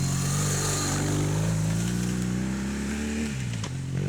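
A BMW motorcycle engine revs hard in a low steady drone while climbing an abandoned ski hill, pitch rising slowly then dipping as the throttle eases, close and loud throughout.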